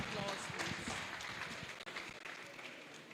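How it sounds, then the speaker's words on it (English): Audience applause at an annual law lecture for the Chief Judge of the FCT High Court in Nigeria, a steady broadband clatter of many hands clapping at close range that continues through the clip without a pause. "A round of applause,"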